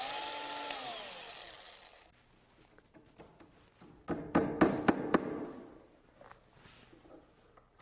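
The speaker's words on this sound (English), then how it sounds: "Drill a couple holes where the nails go." Several sharp, rapid bursts of a power drill biting into wooden stair nosing, drilling nail holes, clustered in the middle, following a quieter stretch with faint background noise.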